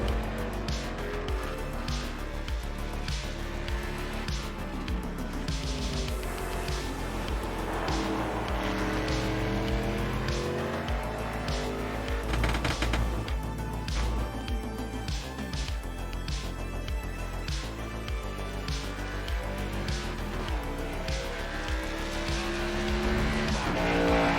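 A NASCAR-style cup car painted like a Dodge Charger roars steadily around an iRacing track, its engine droning loud and unbroken as the pitch rises and falls through gear changes and corners.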